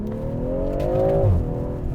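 A car engine revs up in sport mode with a steadily rising, strong pull, then eases off abruptly near the end, loud and close with no talking.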